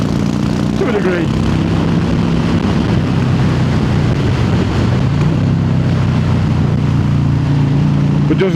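A Harley-Davidson motorcycle rides the Snake Pass road, its engine a steady low rumble with wind buffeting the microphone throughout and no clear gear changes.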